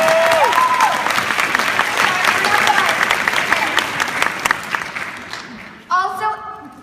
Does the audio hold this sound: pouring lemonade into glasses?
no